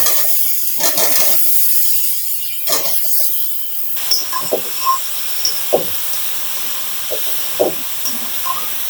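Chopped pointed gourd and potato go into a pan of frying spice paste, sending up a loud sizzling hiss, followed by intermittent scraping and stirring clatter as the sizzle settles.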